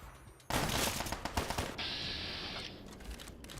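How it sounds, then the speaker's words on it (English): In Fallout 3, a sudden burst of blasts and rapid rattling fire from a grenade rifle breaks out, followed by a ringing tone and scraping debris that gradually fade, with no voices over it. "But I have a singular grenade rifle that I will shoot."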